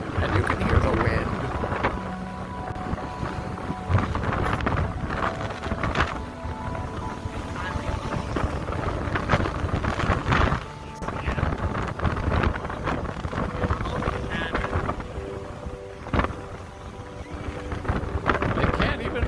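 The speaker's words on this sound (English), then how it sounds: "And you can hear the wind." Wind rushes and buffets against the microphone in a steady, rough roar, with water and faint voices mixed underneath.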